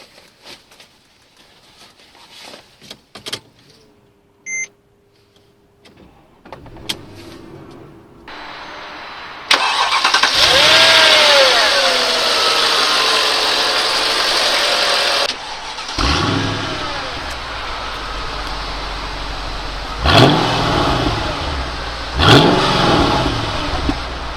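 A 2005 Mercedes CLS55 AMG W219 starts up after a few clicks and quiet mechanical sounds, catching with a loud crank into a steady idle, followed by several sharp throttle revs that rise and fall, with no talking.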